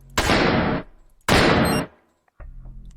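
Video game gunfire destroying turrets comes as two loud, sustained bursts of rapid shots, each lasting about half a second, separated by a brief gap, followed by a lower rumbling hum.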